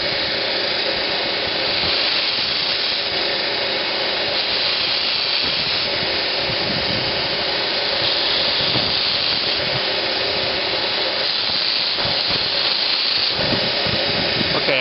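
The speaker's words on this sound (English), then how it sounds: "I'm going to carefully tip it up at a 45 and very gently go along with the belt and clean those off" A belt sander runs steadily as burrs are taken off a metal part held at a 45-degree angle with light pressure, a constant close hiss and whir with slight rasping variations and no talking.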